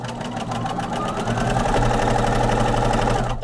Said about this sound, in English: Let me sew this on